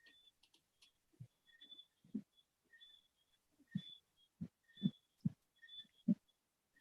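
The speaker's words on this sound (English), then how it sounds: "I can feel the heartbeat." A heartbeat sound effect thumps in soft, low pulses, sparse at first then settling into a steadier beat, with faint high beeps ticking alongside.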